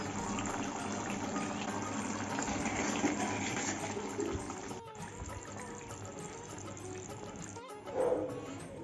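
Fish curry (aar macher jhol) is poured into a bowl, giving a steady, close liquid pour and trickle that runs for several seconds and then eases off, with no talk over it.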